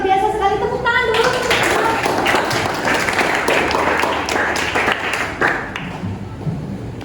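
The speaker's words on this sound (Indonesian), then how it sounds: "Tepuk tangan dulu." Classroom applause from students after a lesson on photosynthesis, a burst of clapping lasting several seconds with scattered individual claps and taps, fading toward the end, with some voices mixed in.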